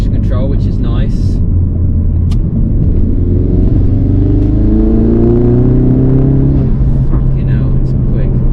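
Ford Focus RS MK3 engine under way on a twisty road, a steady loud drone and rumble that rises and shifts in pitch as it accelerates, with a voice talking over it.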